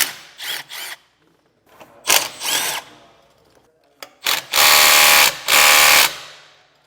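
A power drill spins off 14 millimeter nuts from a trailer brake assembly on a 2017 K-Z Sidewinder, sounding as several loud, close bursts of high whirring, short at first and then longer, separated by quiet gaps.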